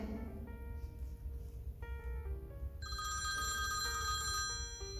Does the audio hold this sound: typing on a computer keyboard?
no